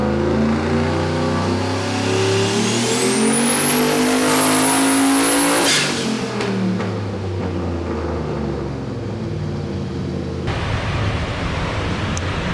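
A turbocharged car engine, boost turned down during a tuning run, revs hard and rises steadily in pitch with a shrill turbo whine on top, then lets off and settles into a rough, loud idle.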